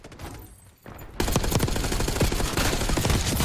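Rapid gunfire in Call of Duty: Black Ops 6 multiplayer, a quieter opening that breaks into loud, continuous close automatic shooting for the rest of the stretch.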